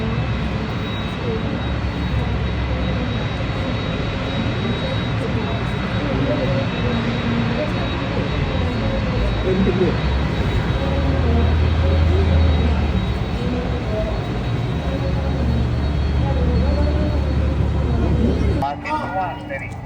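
Aircraft at an airport taxiing toward the runway holding point, a steady engine drone that stays loud and even throughout, with radio-style talk layered over it.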